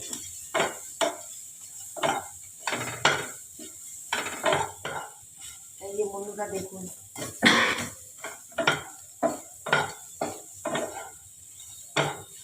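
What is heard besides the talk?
onions being fried and stirred in a pan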